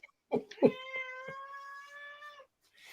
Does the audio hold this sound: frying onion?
no